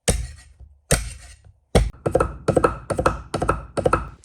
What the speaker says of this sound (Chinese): 拍匀剁碎